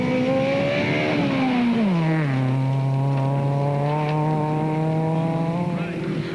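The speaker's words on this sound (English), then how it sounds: "as he hurtled the Subaru through the farmyard" Subaru rally car in the 2002 Cape Rally screams through a farmyard, its engine revving high, dropping sharply as it shifts, then holding a strong steady note, close and loud.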